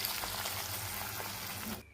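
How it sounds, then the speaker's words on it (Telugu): Curry leaves, cumin and ginger garlic paste sizzle steadily in a hot pan for palak paneer, a dense, even crackle that stops abruptly just before the end. "కొంచెం జింజర్ గార్లిక్ పేస్ట్ ఇవన్నీ కూడా మంచి బ్రౌన్ కలర్లో ఫ్రై అయిపోవాలండి"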